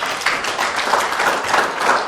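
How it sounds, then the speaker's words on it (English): A classroom of secondary-school mathematics students claps for a classmate, steady scattered applause of many hands, moderately loud and continuous for a couple of seconds with no talking over it. "Can you give her a clap?"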